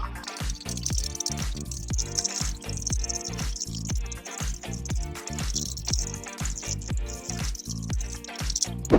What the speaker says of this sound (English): So I'm just going to stir, just make sure that it dissolves in the water.